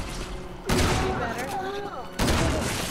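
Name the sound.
gunfire in Resident Evil 6 video game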